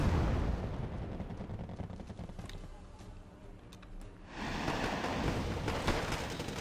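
Napalm strike roaring through a Wargame Red Dragon battle, a dense, sustained rumbling blast of fire and explosions that eases briefly midway and then swells again loudly.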